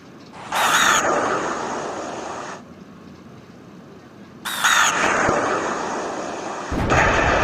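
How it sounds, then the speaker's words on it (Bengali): Missiles explode in a heavy-vehicle driving video game: two loud booming blasts a few seconds apart, each trailing off in a long rumbling roar, with a third blast breaking in at the very end. "চলো এখন একটু মিসাইলের খেলা দেখাই।"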